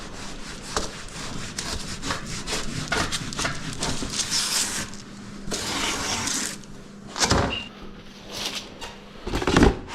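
A bone-in pork belly is cut in half for bacon, giving steady sawing and rubbing strokes, knife or saw dragging through meat and bone, close and continuous with a few sharp clatters near the end.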